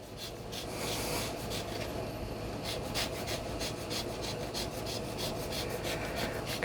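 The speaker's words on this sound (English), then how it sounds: "I've got a whole lemon, and I'm just going to go along and zest up." A whole lemon is zested on a microplane, a soft, quiet rasping that repeats in quick rhythmic strokes, close up and without talk.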